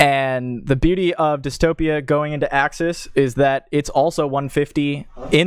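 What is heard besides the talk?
None of the usual background noises is heard.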